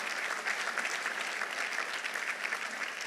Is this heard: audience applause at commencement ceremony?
yes